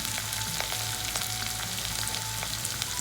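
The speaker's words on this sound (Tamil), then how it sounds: "எல்லாத்தையும் நல்லா வதக்கிக்கலாம்" Chopped onion, capsicum, carrot and cabbage sizzle loudly in a hot pan on high flame for egg fried rice, a dense continuous frying hiss with faint stirring scrapes.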